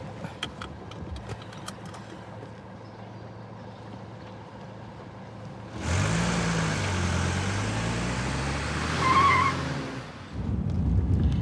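A car engine starts and pulls away nearby, the rising rumble building up suddenly after a quiet stretch, swelling to a louder rev before dropping, with no talk.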